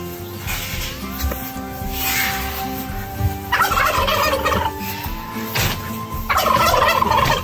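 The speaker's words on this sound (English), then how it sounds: "All right, chickens." Poultry gobbling and clucking close by at feeding time, several birds calling in repeated bursts that rise and fall over a steady outdoor background.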